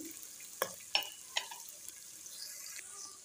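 A spoon stirs sliced capsicum and small carrots in a pan for chicken macaroni, making a few sharp scrapes and clacks over a faint background sizzle, with no talking.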